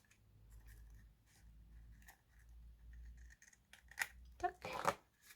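Scissors trim surplus packaging material from a small handmade treat box; a soft, quiet stretch gives way to a few sharp, close snips near the end.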